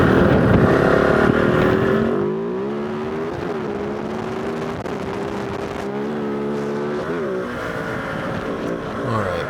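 Kove 450 Rally motorcycle ridden on gravel service roads, engine droning steadily with rising and falling pitch through gear changes, wind and tire roar beneath, close and continuous with no talk.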